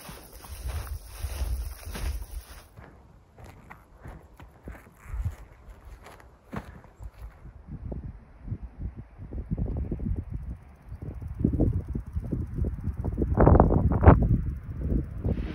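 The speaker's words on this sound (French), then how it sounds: "Oh, le vent se lève." Wind rises at a mountain lake, buffeting the microphone in uneven gusts that build louder toward the end, with a few crunching footsteps in between.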